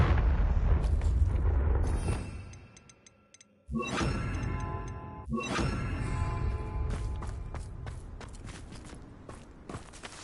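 Confringo fire spell blasts from Hogwarts Legacy on PS5, loud booming explosions with a sharp burst near 3.7 seconds and another around 5.3 seconds, over a dense rumbling game soundscape.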